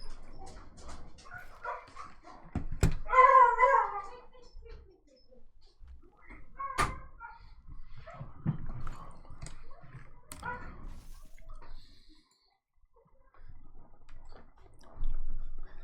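A dog barks and whimpers indoors as someone comes home: scattered short barks and yips at moderate distance, mixed with clicks and faint movement sounds, fairly quiet overall.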